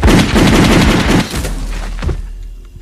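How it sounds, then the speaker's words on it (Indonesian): Rapid bursts of close, loud gunfire from an action film, a volley of overlapping shots that fades into a short tail with a few scattered reports. "tiba-tiba seseorang anak buah datang dan langsung menembak temannya Mike"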